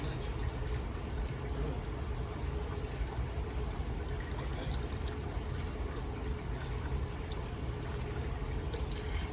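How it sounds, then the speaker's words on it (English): Swanson's chicken broth poured into a soup pot, a steady continuous liquid splash and gurgle, close and even throughout with no talking. "we'll go ahead and pour in some of the Swanson's"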